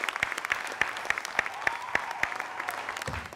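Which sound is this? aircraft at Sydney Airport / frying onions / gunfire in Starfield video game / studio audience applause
studio audience applause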